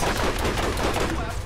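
Rapid automatic turret gunfire in the video game Borderlands, a dense, loud stream of overlapping shots with no gap across the whole short stretch.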